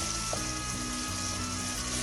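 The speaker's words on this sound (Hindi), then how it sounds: "टमाटर को स्मूथ होने तक अच्छी तरह से भूनेंगे।" Low, steady sizzling of tomato paste frying in a pan, continuous and fairly quiet with a faint background hum.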